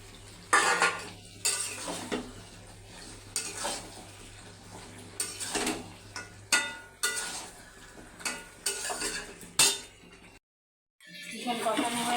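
Potatoes stirred into chicken kosha in a pan, repeated sharp scraping and clanking strokes of a spatula against metal over a low sizzle, with a brief silent gap near the end.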